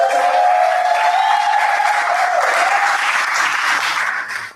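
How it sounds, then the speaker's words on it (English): Loud, close audience applause for a performer at a poetry event, sustained dense clapping that continues steadily before cutting off abruptly, with a faint tonal hum beneath. "Let's give him a round of applause."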